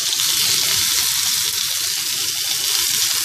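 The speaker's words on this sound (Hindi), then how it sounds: "अपनी बाकी की स्टिक्स को भी ऐसे ही फ्राई कर लेंगे" Chicken shashlik sticks frying in hot oil, giving a loud, dense, continuous sizzle that stays steady throughout with no talk over it.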